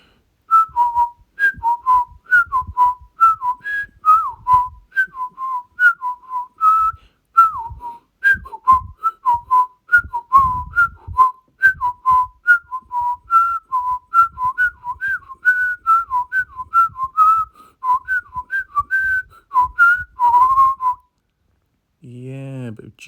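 One person whistles a long, lively melody of quick repeated notes with short pauses, close and clear, ending with a brief low voiced sound.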